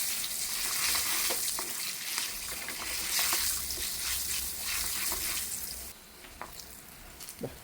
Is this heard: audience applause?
no